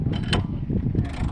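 A hand winder cranks up the roof of a 2023 Jayco Swan camper trailer, giving a short run of close, rhythmic mechanical clicks and creaks from the winding gear.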